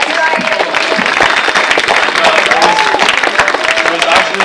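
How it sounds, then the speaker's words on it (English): Loud applause and cheering from a packed high school assembly for a student, a dense wall of clapping with shouts and whoops from the crowd that holds steady throughout. "Can you give a round of applause to Mira?"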